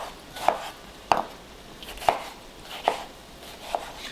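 A Santoku knife chops through a tomato on a board, five crisp, evenly spaced cuts landing close and loud, each a sharp thunk with a quiet gap before the next.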